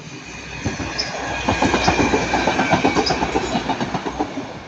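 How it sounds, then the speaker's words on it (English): A Northern Class 156 diesel train passes close by, running loud and steady with a rhythmic clickety-clack of wheels over rail joints and a faint squeal, with no talking. "that's going to be Northern Class 156 going from Manchester Piccadilly to Chester"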